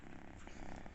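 A cat purrs very close and quietly, giving a soft, continuous rumbling throb for about a second with no voices over it.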